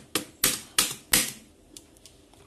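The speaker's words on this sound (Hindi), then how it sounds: "बहुत घटिया कीबोर्ड है ये, इतना हार्ड, इसका स्पेस बार देखो" The stiff, half-broken space bar of a dusty, poor-quality computer keyboard is pressed four times in quick succession, each a loud, sharp clack, followed by a few fainter taps.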